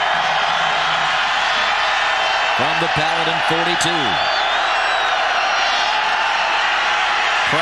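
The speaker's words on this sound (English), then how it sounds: "The big crowd at Kid Brewer Stadium making some noise in support of the Appalachian defense." A big stadium crowd at Kidd Brewer Stadium roars steadily in support of the Appalachian State defense at a 2000 college football game against Furman, a dense sustained roar, with a brief announcer's voice and distant band or whistle tones mid-clip.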